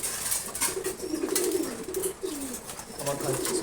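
Racer pigeons eating their morning feed coo in low rolling phrases close by, with a voice talking faintly over the flock.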